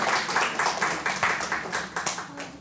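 A book talk audience gives the guest speaker a welcoming round of applause, fairly loud and near, with distinct claps standing out over a steady crowd wash that slowly tapers.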